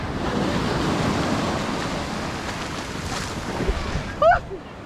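Sea waves wash along the Italian Riviera shore in a steady, broad rush with some wind noise, and a brief louder splash near the end.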